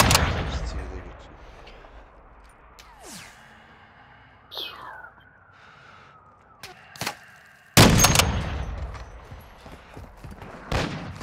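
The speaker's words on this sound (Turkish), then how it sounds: "Patladı mayın buradan. Benim bulunduğum yerden." A land mine blast in the video game Call of Duty DMZ on the Al-Mazrah map: a sharp, loud explosion that hits suddenly and then rumbles away, with scattered gunfire-like bangs and low game ambience before it.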